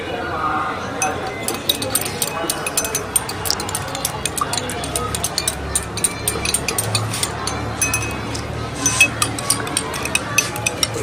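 Glass beaker being stirred in a school science experiment, blue colouring mixed into the solution, giving repeated light clinks and taps under steady background chatter from people nearby.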